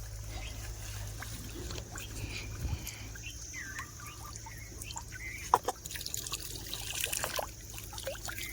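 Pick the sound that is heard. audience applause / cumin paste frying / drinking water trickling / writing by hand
drinking water trickling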